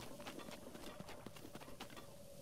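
Horse hooves clip-clop in a quick, uneven rhythm in the video game The Legend of Zelda: Breath of the Wild, faint and steady, with no talking.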